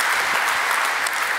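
Audience applause at a software developer conference keynote, Unite Europe 2016, a steady dense wash of many hands clapping close and loud throughout, with no talking.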